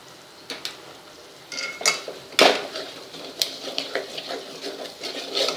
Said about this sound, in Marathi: छान असं मसाल्यात सुके मसाले छान परतून घ्यायचे आहे